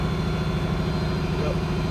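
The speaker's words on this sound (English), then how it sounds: "radio off, idle the tractor down." Steady low rumble of an idling tractor engine powering a feed grinder, constant and close throughout.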